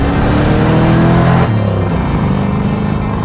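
A 1968 Ford Mustang and a manual-transmission Chevy Corvette launch in a drag race, engines roaring loud and close with rising revs, a sharp gear change midway and tire noise.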